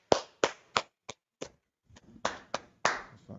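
Scattered hand claps at a class gathering, about ten separate sharp claps in an uneven rhythm, some close and loud, others softer, with no talking over them.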